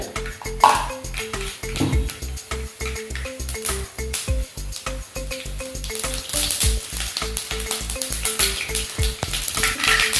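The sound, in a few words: mustard seeds spluttering in hot oil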